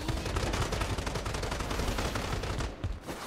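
Rapid gunfire rattles through a Strinova match, a steady dense burst of shots packed close together for about three seconds, loud and continuous before a brief dip near the end.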